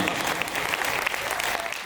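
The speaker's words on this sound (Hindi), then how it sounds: "तालियां जरा जोरदार बजा दो साहब" An audience at a Hindi poetry recital applauds with dense, steady clapping throughout, close and sustained with no pause.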